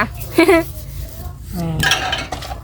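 Ceramic bowls and plates clink and clatter as they are gathered and stacked at home, in a few close, sharp bursts, while a voice talks nearby.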